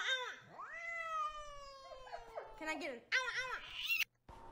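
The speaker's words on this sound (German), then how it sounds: "Das ist, wenn Katzen solche Laute machen, dann solltest du die nicht weiter reizen, dann haben die Angst." A frightened cat meows and caterwauls in several drawn-out, rising and falling cries, loud and close, ending in a few shorter, harsher yowls.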